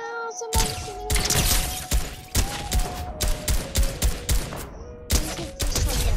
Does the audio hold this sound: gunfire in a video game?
yes